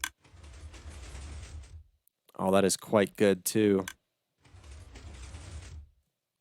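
A Minecraft redstone 3x3 vault door opens and closes with two stretches of steady, soft mechanical clatter from pistons, separated by a person speaking.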